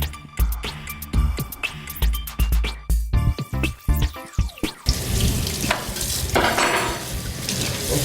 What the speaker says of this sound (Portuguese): Você lava a louça, água correndo assim?